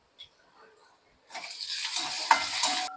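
Onion and salt dropped into hot tempering oil for dal batti, a faint clink followed by sizzling frying that rises and holds steady with a few stirring scrapes.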